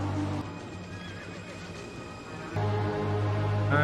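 A horse neighs over low droning background sound, followed by a louder, brighter whinny near the end.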